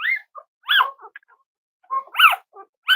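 A young puppy gives a string of high whimpers and small yelps, short rising and falling cries in irregular bursts with brief silent gaps, close and clear with no talking.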